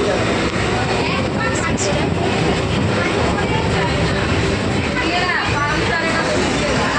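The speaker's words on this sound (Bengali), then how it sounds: "দুটো ট্রেন আমাদের একসাথেই যাচ্ছে" Loud, steady rumble and clatter of two trains running side by side close by, heard from aboard the Shantipur local, a continuous roar filling the whole clip, with voices faintly audible underneath.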